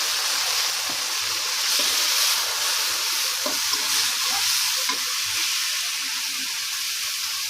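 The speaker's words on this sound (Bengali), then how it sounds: "পেঁয়াজ মরিচ ভাজা হয়ে গেল টমেটো দিয়ে দিলাম" Tomatoes hit a pan of frying onions and chilies for pasta, setting off a steady close hiss and sizzle with faint stirring clicks underneath.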